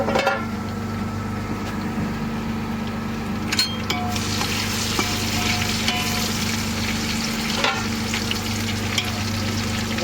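Onions and masala fry in a pan for fish biryani aboard a fishing boat, a steady loud sizzle with stirring scrapes and occasional clanks of a spatula against the metal, a low engine drone beneath.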